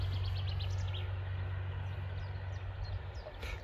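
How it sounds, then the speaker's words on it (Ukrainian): Songbirds chirp and trill outdoors amid greenery in Vinnytsia region, with short high calls scattered over a steady low hum of background noise. "пташки співають"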